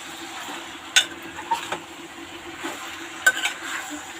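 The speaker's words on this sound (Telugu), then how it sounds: "ఇలా యాడ్ చేసేసినాక ఒకసారి కలుపుకోవాలి." Goat tripe (boti) curry being stirred in a pan, a steady soft sizzle underneath with a few sharp scrapes and clinks of the spoon against metal, close and moderately loud, no talking.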